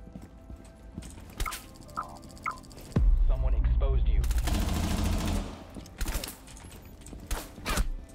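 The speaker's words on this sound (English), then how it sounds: "Dude, stop shooting me, bro." Rapid gunfire in a tactical shooter video game, a dense sustained burst of shots lasting a few seconds amid footsteps and scattered game sounds, with brief sharp bursts later and people talking over it.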